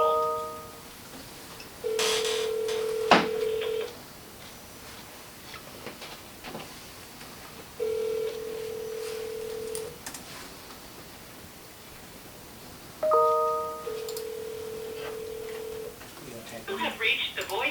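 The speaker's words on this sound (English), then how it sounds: "One moment while we connect your call." Telephone call connecting, with repeated ringback tones each lasting about two seconds, separated by gaps filled with line hiss and faint noise; a few short beeps sound at the start.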